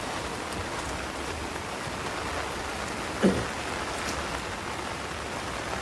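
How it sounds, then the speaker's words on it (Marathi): Rain falls steadily on a rainy day out fishing, a constant soft patter and hiss with one brief thump partway through and no one speaking. "पाऊस वाढला"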